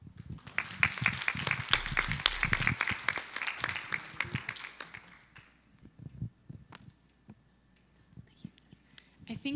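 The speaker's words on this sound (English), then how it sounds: "I would love to have a round of applause for the current board" Conference audience applauding the board at a panel session, dense clapping for about five seconds that fades into scattered claps and room murmur.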